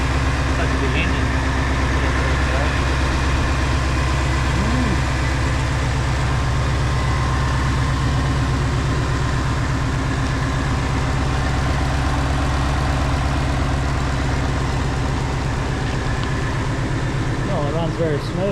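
A Ford Mustang 5-litre V8 idles steadily after a cold start, a close, even, loud rumble that holds without revving for the whole stretch.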